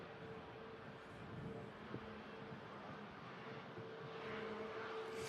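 Heavy Qatar jet airliner at Manchester Airport during a storm, a steady distant engine roar with a faint tonal hum, continuous and moderately quiet, with no voices.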